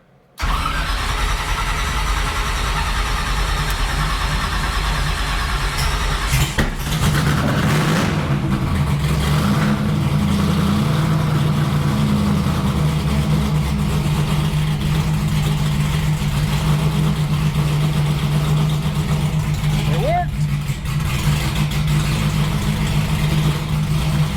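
A 1957 delivery truck engine cranks over for several seconds, then fires and settles into a steady, loud, rough idle that continues with no talking.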